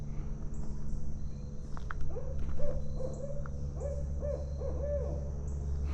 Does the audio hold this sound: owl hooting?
yes